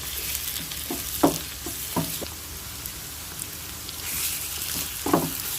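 Ginger garlic paste fries with onions in a pan for a prawn dish, giving a steady close crackling sizzle with a few scattered spoon knocks and scrapes against the pan.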